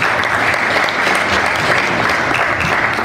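A large audience gives loud, dense applause for a national director of assistance to entrepreneurs and small businesses: a thick, continuous roar of clapping that stays even and full from start to finish.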